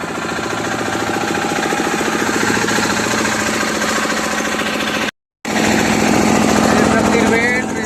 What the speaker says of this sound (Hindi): ये आप देख सकते हो पूरा मशीन चालू हो गया।